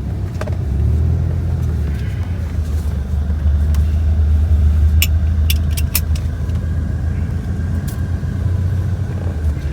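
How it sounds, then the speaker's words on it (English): A 1982 Corvette on the move, its engine giving a steady, loud low rumble under continuous road noise for the whole stretch, with no talk. "Let's go ahead and take it for a ride and see how it drives."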